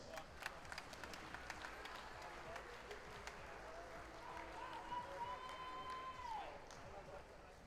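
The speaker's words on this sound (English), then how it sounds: "A big round of applause for Tavis Dudney and Cavan Phillips." Audience applause at a darts finals presentation for the two pairs finalists, a steady, fairly faint wash of clapping from a crowd in a large hall, with background chatter and a brief whistle-like tone partway through.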